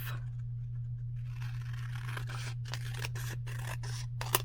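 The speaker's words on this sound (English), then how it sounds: "And then I'll cut this off." Scissors cut paper to make a pocket for a romance journal page, with a soft paper rustle followed by a run of crisp, close snips toward the end.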